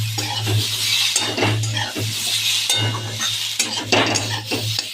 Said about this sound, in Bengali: গোলমরিচের গুঁড়োটা দিয়ে দেবো, ভালো করে একটু ভেজে নেবো।